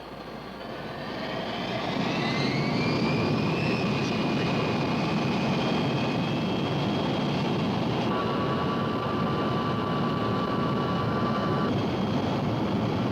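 Jet airliner engines spool up to maximum takeoff power, a loud steady roar with rising whines that settles into a sustained, close, even blast with a high tone layered on top.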